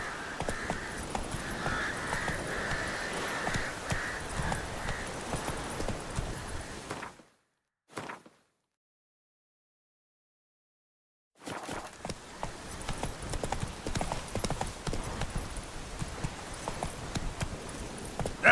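Roach the horse gallops in The Witcher 3, a quick, steady clip-clop of hooves that cuts out to near silence midway, with a brief blip, then resumes at the same pace.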